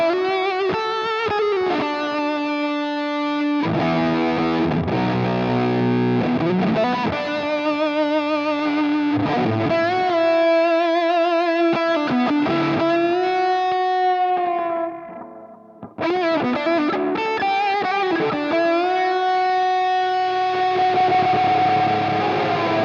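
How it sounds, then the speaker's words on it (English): An electric guitar plays through a Big Muff distortion model on a Nux MG-300 with an expression pedal, giving a thick, sustained fuzzy tone with sliding notes and held chords, loud and continuous with one brief dip. "I'm going to go ahead and select the big muff so I can give you an idea of what that sounds like"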